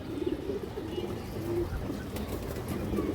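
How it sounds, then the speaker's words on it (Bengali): A lively female pigeon of an old-pattern type with purple legs coos nearby, a steady, close, low warbling that continues through the moment with soft rustling underneath. "খুবই চঞ্চল একটা কবুতর"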